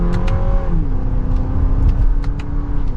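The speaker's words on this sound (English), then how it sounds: "And a gradual acceleration, and we are up to speed." A 2023 Lexus RX350 Premium accelerates in second gear in sport mode with manual shifting, its engine note rising steadily and smoothly as a hum climbs in pitch over road noise, heard from inside the cabin.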